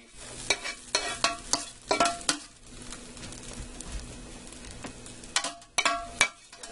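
A mixture spooned into a baking pan over ground beef for a Philly cheesesteak casserole: irregular clinks and scrapes of a spoon against the pan, with soft wet plops between them.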